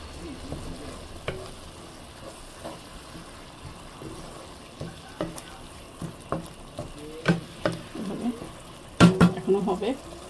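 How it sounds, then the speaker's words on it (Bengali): Ginger and garlic paste frying with spices in a pan for a spicy kachki fish chorchori, soft sizzling under scraping stirs and utensil clinks that grow louder and more frequent toward the end. "এই মশলার সঙ্গে এটা আমি সুন্দর করে ভুনে নেব।"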